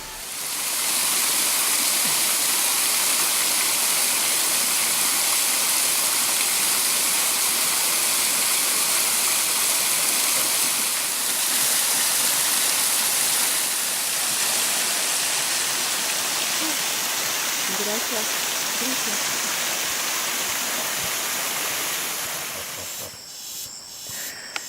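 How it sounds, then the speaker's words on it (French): The Pastaza river flows in a constant broad rushing hiss, steady and full for over twenty seconds before cutting off at the end. "Les bains géants, c'est le fleuve Pastaza, avec en plus une source d'eau claire et fraîche pour se rincer."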